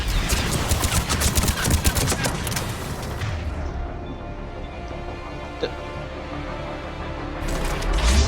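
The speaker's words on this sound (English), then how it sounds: "Missiles away." Missiles launched during Mass Effect 3 gameplay, a rapid barrage of sharp repeated bursts over a heavy rumbling roar that then settles into a sustained lower drone before the burst resumes at the end.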